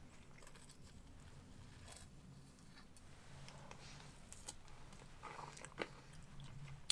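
Crunchy chewing on a Dalgona coffee cookie ice cream sundae: close, quiet mouth sounds with small crackling bites repeating over several seconds, with no talking.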